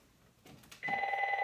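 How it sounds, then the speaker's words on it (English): A home telephone starts ringing after some quiet handling noise, its electronic bell trilling steadily with a bright warbling tone, fairly faint and somewhat distant. "now my home phone is ringing"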